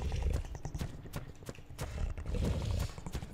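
Horse hooves clip-clopping in a steady rhythmic gait while riding a saddled mount in the game Ark: Survival Evolved, close and moderately loud, with faint background game ambience.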